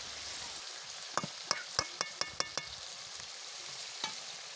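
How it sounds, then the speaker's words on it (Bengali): Chicken fries in a pan with a steady sizzle while a utensil scrapes and stirs, giving a burst of sharp clicks and knocks at close range, with no talking. "চিকেনটা কষিয়ে নিয়ে ভালো করে নেড়ে চেড়ে তারপরে রান্নাবান্নাটা হয়ে যাবে"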